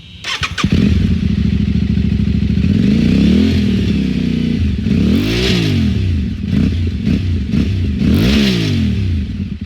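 A Tuareg motorcycle engine revs repeatedly up and down, its loud aftermarket exhaust roaring and rising in pitch with each twist of the throttle, close by and steady throughout.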